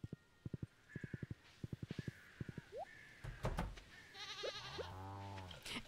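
Goats and farm animals in the video game Stardew Valley, with rhythmic clip-clop hoof taps, a few short bleats and brief chiming game effects, alone with no talk.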